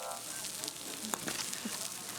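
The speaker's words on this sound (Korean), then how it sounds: "바삭하게 튀겨진다" Food deep-frying in hot oil over a wood fire gives a steady, close, crackling sizzle with a few sharper pops.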